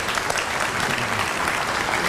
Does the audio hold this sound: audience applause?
yes